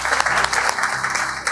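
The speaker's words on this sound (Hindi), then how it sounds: "ताली हो जाए।" Hostel students clap together in a brief burst of dense, lively applause from a room full of people.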